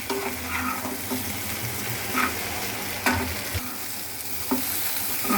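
Potatoes and small onions dry-roast in a pan with a steady, close sizzle, broken by repeated stirring strokes that scrape against the pan.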